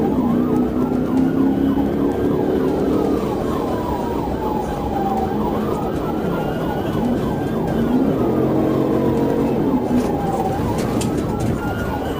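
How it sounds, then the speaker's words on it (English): A state trooper's police car siren wails and yelps in rising and falling cycles during a pursuit, loud and nearby, over the rumble of traffic and engine noise. "When the trooper activated lights and siren"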